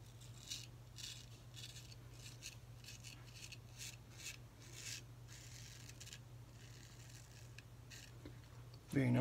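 A straight razor scrapes across a lathered face with shaving soap, a quiet, steady rasping of short strokes over low background hum, ending with a louder bump.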